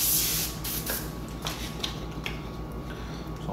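Airbrush spraying paint in short bursts off a freehand shield to shade airbrushed rivets and overlapping panels, a steady close hiss with brief pulses and no talking.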